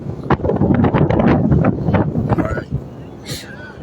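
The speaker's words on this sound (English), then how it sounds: "Salaki, it's kind of windy out here." Wind buffets the microphone in gusty rushes, with a person talking over the noise outdoors.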